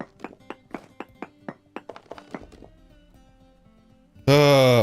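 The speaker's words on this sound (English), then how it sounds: "we're hearing the sounds of a lovely shiver banging its head against the wall somewhere" In a video game, a shiver creature bangs its head against a wall: about a dozen quick, hollow knocks in steady rhythm that grow quieter and stop, then a loud sustained tonal sound breaks in at the end.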